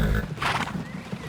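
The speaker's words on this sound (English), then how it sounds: "bit of a rude horse" A horse neighs once in the video game Transport Fever 2, a loud, close whinny rising and falling over a low rumble of game background.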